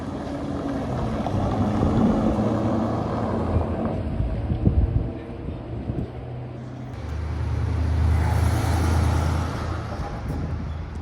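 A GT3 sports car passing on a street during carspotting in Deauville, its engine swelling in the first half, easing off, then a deeper rumble building again as traffic noise continues outdoors.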